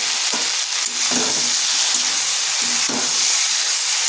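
Spice paste with Kashmiri chili powder and ground cumin sautéing in a pan for a fish and taro curry, a steady loud sizzle with soft stirring scrapes over the top, close and continuous, no talk.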